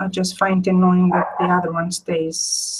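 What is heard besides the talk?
dogs barking while fighting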